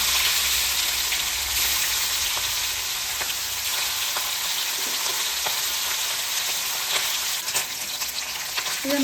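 Hilsa fish pieces fry in hot oil in a kadai, giving a loud, steady, dense sizzle with occasional small pops and clicks throughout.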